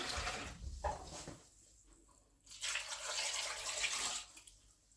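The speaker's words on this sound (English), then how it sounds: "You get some water in." Water running and splashing into a cooking pot for stew peas with pig tail, a steady pour that stops partway and then resumes, with faint drips in a quiet kitchen.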